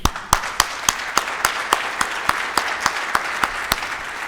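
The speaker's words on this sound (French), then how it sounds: "On l'applaudit là." Steady rhythmic clapping rings out at the closing of a conference's first day, in honour of the organizer, with sharp even beats about three per second and a softer patter of hands underneath.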